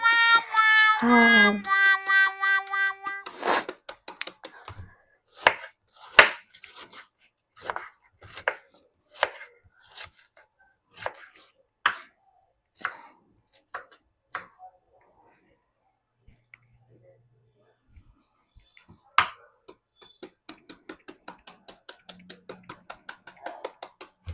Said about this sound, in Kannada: ಚಿಕ್ಕದಾಗಿ ಕಟ್ ಮಾಡ್ಕೋಬೇಕು ಕ್ಯಾಬೇಜು